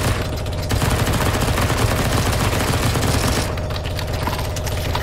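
Sustained automatic gunfire in Counter-Strike: Global Offensive zombie escape mode, loud and dense rapid shots with no break, firing at a boss, with no talk over it.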